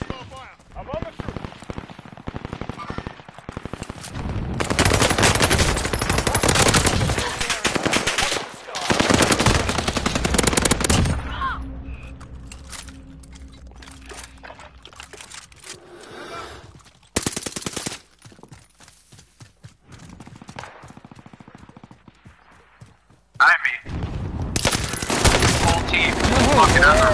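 Video game machine gun fire in long, loud automatic bursts, separated by quieter stretches with a voice speaking, then resuming in heavy rattling volleys toward the end.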